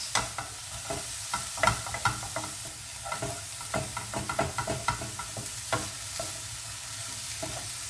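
Onion fries in a small amount of oil in a pan, a constant sizzle broken by repeated scraping stirs of a utensil, close and steady with no speech.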